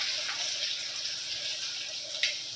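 Onions deep frying in hot oil, a steady bright sizzle and crackle with scattered pops, loud and close, without talk.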